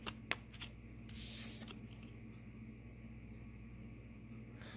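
A deck of tarot cards is shuffled in a quiet room: soft, faint riffling and sliding, with a brief fuller rush of card noise early on, then light handling, and no voices.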